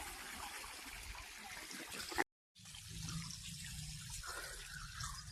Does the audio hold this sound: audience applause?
no